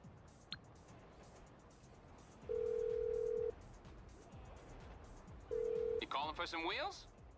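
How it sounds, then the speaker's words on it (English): Phone dialing in the video game GTA 5 while calling the mechanic: two long, steady electronic tones about a second each, separated by a pause, followed by a brief warbling phone ring, all over a quiet game background. "all you guys have to do is pull up your phone and go ahead and call your mechanic"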